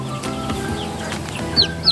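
A brooding hen whose eggs have just hatched clucks softly against a low farmyard background, with a couple of brief high peeps near the end.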